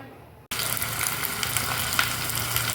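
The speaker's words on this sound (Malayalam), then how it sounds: "ഇനി ഇതിലേക്ക് വറുത്തിടാൻ വേണ്ടിയിട്ട് ഒരു അര ടീസ്പൂൺ ഉലുവ രണ്ട് വറ്റൽമുളക് ഇത് പൊട്ടിയതിന് ശേഷം നമുക്ക് ഒരു എട്ട് കുഞ്ഞുള്ളി വട്ടത്തിൽ അരിഞ്ഞത് ഇട്ട് കൊടുക്കാം" Fenugreek, dried red chillies and sliced shallots hit hot coconut oil, bursting into a sudden loud sizzle after a quiet moment and frying steadily, close up, with no voices.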